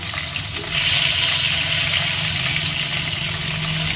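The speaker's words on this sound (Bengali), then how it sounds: "মাছের মাথাটা ভাজছি আর এদিকে বেগুন ভাজা বসিয়ে দিচ্ছি" Fish head and eggplant frying together in a pan, a steady broadband sizzle that swells after the first half second and holds loud and even, with no talking over it.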